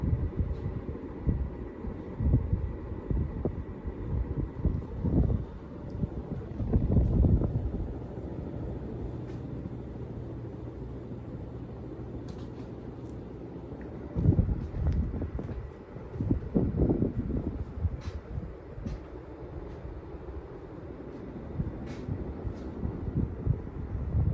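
A Casablanca Delta I ceiling fan in polished brass runs steadily, giving a constant low whooshing rumble of moving air with faint knocks and rattles, close and continuous with no talk.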